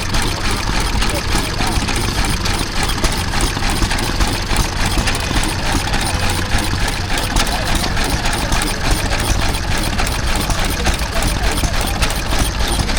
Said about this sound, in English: we see a Ruston Hornsby AP stationary engine